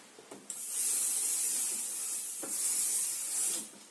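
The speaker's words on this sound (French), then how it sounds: "je vais déjà mettre mon petit spray non permanent" Non-permanent spray hisses from a can in two close, steady bursts of several seconds each, bright and sharp, with a few soft handling sounds and no talking.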